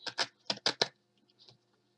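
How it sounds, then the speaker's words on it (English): Tarot cards being shuffled, five quick papery riffles in a fast close burst, then a few faint ticks and settling sounds. "Shuffle the cards again"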